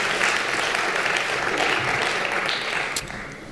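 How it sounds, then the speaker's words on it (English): A lecture audience gives a steady round of applause for Bob Doherty at a public lecture on Fair Trade chocolate, a moderately loud wash of clapping that tapers slightly at the end. "Let's just give a round of applause to Bob."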